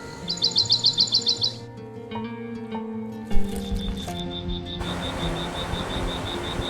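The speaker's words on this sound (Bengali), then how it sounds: "পাখির ডাক, নদীর বয়ে চলার আওয়াজ" Songbirds call on a forest trail beside a river near Bright, Victoria: a quick run of repeated chirps opens, then a steady series of high tweets continues over soft background music.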